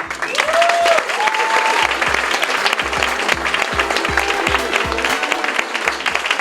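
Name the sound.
audience applauding loudly at culture awards gala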